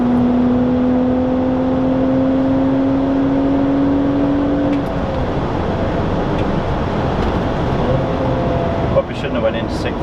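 BMW 130i engine on the Nurburgring pulls steadily up through the revs as a rising in-cabin drone, drops briefly near five seconds, then builds again; road and wind roar stay loud underneath throughout.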